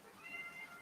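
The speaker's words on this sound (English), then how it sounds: "She just meows a ton." A pet cat meows indoors on a rainy day, a few faint, thin cries drifting over low room hum, soft and somewhat distant.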